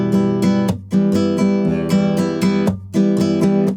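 Flamenco guitar strummed at a fast tempo in rapid, percussive rasgueado bursts with crisp attacks. Brief pauses fall between phrases, played close and loud with no voices.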